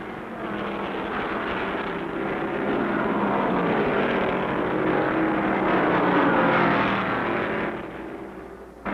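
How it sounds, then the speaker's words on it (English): Stock cars roar around an oval in a long, steady engine drone that swells and holds loud for several seconds before easing off near the end, with no talking over it. "Stock car racing, which got its start in the Southeast, is a real crowd pleaser."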